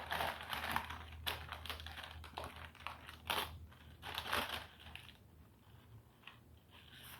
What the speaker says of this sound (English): you just carefully peel this wax paper off